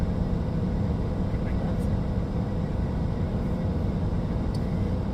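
A car's defrost blower roars in a steady, even wash of air noise that stays at one level throughout, with nothing else standing out above it.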